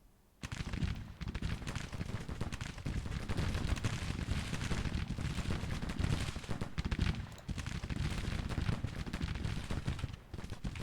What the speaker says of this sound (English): They are under artillery fire from Jackson's battery.